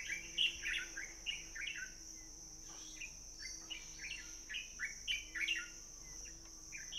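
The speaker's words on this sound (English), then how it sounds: "let you hear, if you can, the amount of bird life here" Wild birds chirp and tweet in short, repeated bursts at a campsite in Zambia, fairly faint and spread out, with a soft insect-like hum underneath and no talking.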